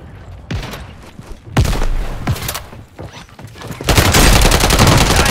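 Bursts of automatic gunfire crackle in a video game, loud and close, with a few separate volleys before heavy sustained firing near the end.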